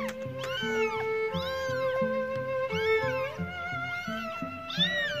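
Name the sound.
kitten meowing loudly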